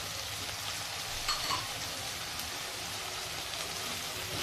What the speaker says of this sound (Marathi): आता हे सर्व काही आपण चांगले परतून घेऊ।